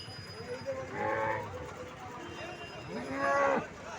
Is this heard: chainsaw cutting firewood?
no